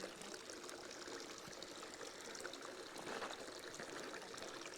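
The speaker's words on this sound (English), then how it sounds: "Little cute little water feature." A small decorative garden water feature trickles and splashes steadily in a castle-side garden, a continuous close, even wash of falling water with no voices.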